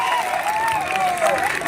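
Audience applause at a Makar festival stage show in Odisha: a dense, steady wash of clapping from a crowd, with a wavering whistle-like tone running through it, lasting only a moment.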